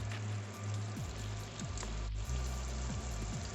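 Wine and chicken scampi sauce bubbling and sauteing in a pan, a close, steady sizzle with soft popping bubbles and a low continuous hum underneath.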